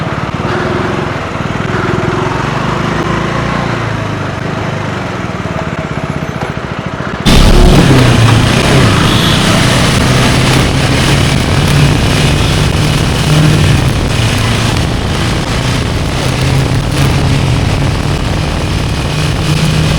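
A motorcycle engine runs steadily on a road between Patni Top and Sonmarg, a loud continuous drone with wind rush that grows louder and rougher partway through.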